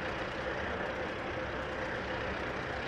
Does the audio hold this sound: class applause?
no